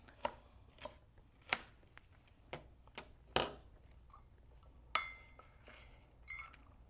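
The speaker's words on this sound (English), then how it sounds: "So we'll just keep chopping until we get it all" A knife chops steadily on a cutting board through cabbage and carrot for coleslaw, irregular crisp thuds a beat apart, with faint clinks between strokes and no talking.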